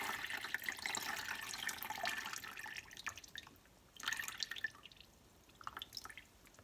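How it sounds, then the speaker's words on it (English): Water from cooked pumpkin pours off into a sink, a steady splashing trickle that tapers and comes back in a few short spurts, close up with no talk. "is drain the water off of the pumpkin."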